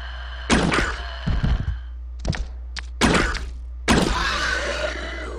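Bow gun shots fired in the Resident Evil 2 video game: several sharp, punchy thunks in quick succession, close and loud, separated by short gaps, each with a brief bright crack and a little ringing tail.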